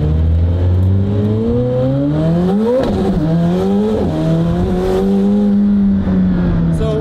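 A Lamborghini Aventador SVJ V12 accelerates hard from inside the cabin, its loud engine note climbing steadily through the gears with brief dips at each shift, and a voice speaks briefly over it.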